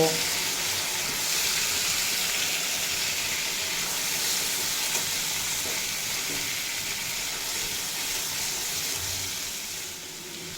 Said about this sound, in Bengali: সেদ্ধ করে রাখা সবজি দিয়ে এক মিনিট মতো আলতো হাতে নাড়াচাড়া করে নেব